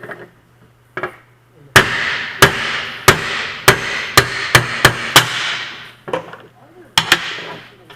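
A hammer drives an old bushing out of a Dodge 47RE transmission part, a run of sharp metallic blows, some in quick succession, each ringing briefly before the next.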